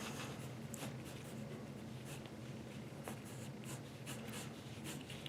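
A blue pencil drawing on paper gives a soft, continuous scratchy rasp with short strokes and light taps, close and quiet, with no talking.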